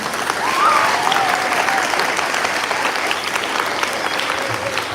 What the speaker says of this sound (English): can you give yourselves a round of applause?